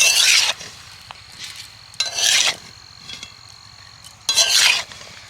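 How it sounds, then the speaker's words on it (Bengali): Salted tomatoes being stirred in a pot for homemade tomato sauce, three scraping, sloshing strokes of a spoon with a sizzle, close and fairly loud, each pass separated by quieter pauses. "তো এবার নেড়ে দিচ্ছি।"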